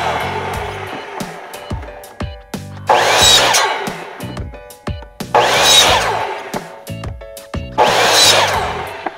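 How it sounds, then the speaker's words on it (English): A chop saw slices 2-inch PVC pipe into short sections in three loud, close whining cuts that rise and fall, separated by spin-down and clunking handling sounds. "I'm going to cut this pipe down into 5-inch sections using my chop saw"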